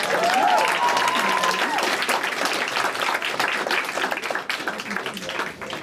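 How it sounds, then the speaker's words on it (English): A comedy club audience at the DC Improv breaks into loud, sustained applause, a dense wash of clapping with a brief cheer at the start that continues steadily throughout. "You can clap it up for me really quick."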